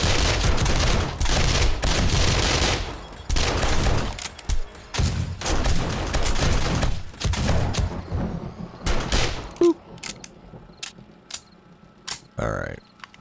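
Enemy gunfire in the 7 Days To Die video game during a horde-night base defense, with dense, loud bursts of rapid shots that thin out into scattered single pops and a closing whoosh, and someone talking intermittently.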